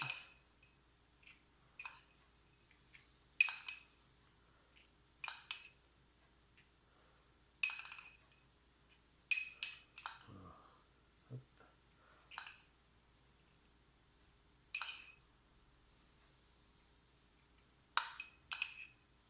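A spoon clinks against glass while crushed speculoos biscuit is spooned in for meringue-topped stuffed lemons: about a dozen short, bright taps scattered irregularly across quiet gaps, close and fairly soft, with no talking.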